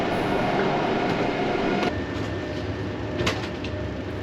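A steady, loud rumble of a Hitachi-built Southeastern passenger train in motion fills the whole stretch, with a couple of brief clicks and a faint high whine riding on top.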